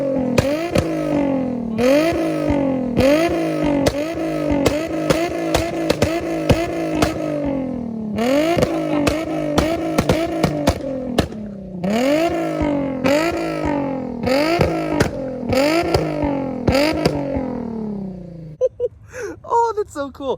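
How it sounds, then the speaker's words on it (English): An Infiniti G35 fitted with a spark plug exhaust flame kit revs repeatedly in sharp bursts, engine climbing and dropping with crackling pops between, loud and close, with a person's voice briefly near the end. "We can finally test the flame kit."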